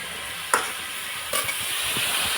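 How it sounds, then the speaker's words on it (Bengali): Leafy greens frying in a pan, with a constant hissing sizzle and a couple of brief scraping stirs, close and moderately loud. "শাক ভাজা করবো"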